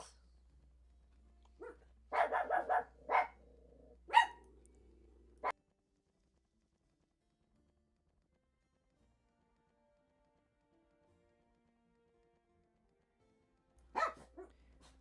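Several dogs bark in a short burst of sharp yaps and barks at close range, then silence, with one more bark near the end.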